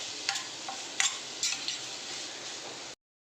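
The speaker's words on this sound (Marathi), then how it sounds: "चला 1-2 सेकंद परतून घेते, म्हणजे आपली पनीर भुर्जी रेडी" Paneer bhurji with spices is stirred in a hot pan, producing a steady frying hiss with a few sharp scraping and clinking accents from the spoon before the sound cuts off abruptly.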